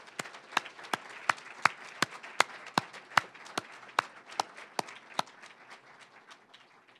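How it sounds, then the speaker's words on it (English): A few hands clapping for honored women at a Salute to Women event, sharp, evenly spaced claps in a steady rhythm, fairly faint, slowing and fading near the end. "How about one more round of applause for these beautiful women?"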